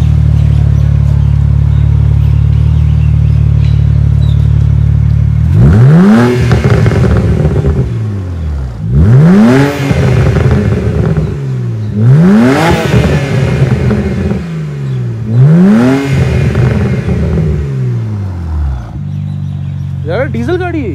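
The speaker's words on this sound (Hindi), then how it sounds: "इसमें पॉप्स एंड बैंग्स हमें उतना ही फील हो रहा है स्टॉक में भी, मतलब एक वैसा साउंड है इसमें, क्रैकल्स बोल सकते हैं" A BMW Z4 with its stock exhaust idles close by, then revs sharply four times in a row. Each rev falls back toward idle with a crackling tail, and a short pop can be heard near the end.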